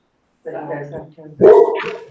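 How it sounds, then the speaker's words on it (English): A dog barks close by, a couple of loud, sharp yips and barks in quick succession. "Jason, I'll grab my dog and he can start barking too"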